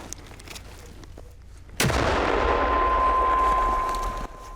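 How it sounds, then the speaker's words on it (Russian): A 120 mm mortar fires a single round at an enemy position, one sharp, heavy blast partway through that breaks the quiet and then rolls off in a long, loud rumbling echo. "Огонь по вражескому опорнику ведется с применением миномета калибра 120 мм."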